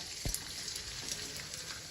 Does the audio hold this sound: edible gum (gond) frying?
yes